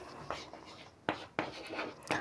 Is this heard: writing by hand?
yes